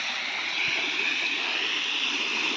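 Water gushes from a broken Narmada water supply pipeline in a constant, loud, broadband rush heard close up without any talking.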